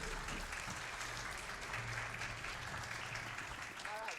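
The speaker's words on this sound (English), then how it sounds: "give a round of applause for that" Faint applause from an audience at a video game speedrun marathon, a soft wash of clapping held under a low hum and murmur of background game sound.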